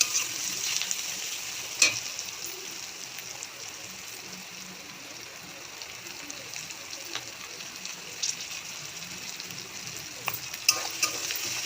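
Onions frying in a pan for a spicy Bombay duck (lote fish) dish, a steady close sizzle with scattered scraping stir clicks, no voices.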